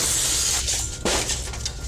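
Glass smashes loudly during a militant attack on a home, a close, harsh shattering burst followed by a second crash and scattered tinkling debris.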